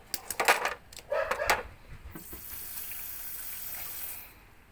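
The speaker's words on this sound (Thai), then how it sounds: "อันนี้น้ำไหลลงไปข้างล่าง" Water trickles down through the cleared drain hole of an Aconatic 9000 BTU portable air conditioner (AN-PAC09L) after being poured in, a steady close gurgling flow following a few brief clicks and splashes, then fading out.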